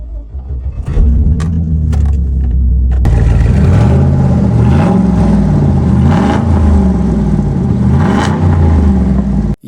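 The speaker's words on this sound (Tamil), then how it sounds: "இந்த வண்டியோட உடம்பு மட்டும் இல்ல வாயம் பெருசு அதாவது சத்தத்தை சொன்னேன் கேக்குறீங்களா உருமுவா போல" A Hummer's big engine roars loudly and steadily as it revs, with rising and falling pitch sweeps over a deep rumble; a few sharp clicks come first, then the engine noise takes over and runs alone.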